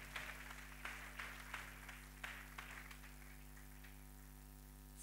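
A church congregation at a Sunday service claps together in a run of sharp, fairly quiet clapping bursts over a steady low hum, and the clapping thins out toward the end.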